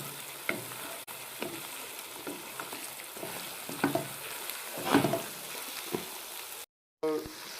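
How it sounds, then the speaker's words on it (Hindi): Ground cumin sizzling in a pan, a soft steady frying hiss broken by occasional spatula scrapes and clinks, a brief dropout near the end. "इसको भी मैं थोड़ा सा फ्राई कर लूँगा। और ये फ्राई हो रहा है।"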